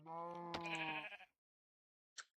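A sheep in the video game Minecraft gives one clear, wavering bleat about a second long, close and alone, followed by a brief faint click after a short silence.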